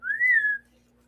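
A single person whistles one clear, sustained note that rises and then gently falls, close and loud, lasting about half a second before fading into quiet.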